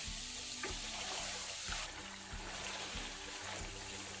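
Chicken being sautéed in a pan for murg chawal pulao, a steady soft sizzle and hiss with faint stirring taps, quiet and continuous with no talk.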